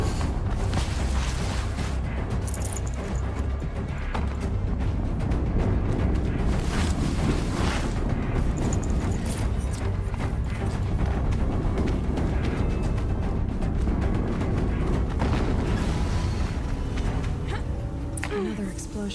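Explosions in a video game, deep booming rumbles inside a continuous dense roar of battle noise, with voices speaking over the mix.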